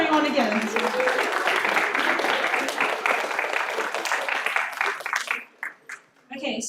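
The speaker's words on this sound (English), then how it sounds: "So round of applause everyone again." An audience at an evening talent show gathering applauds, a loud, steady clatter of many hands that thins out and breaks into scattered final claps near the end.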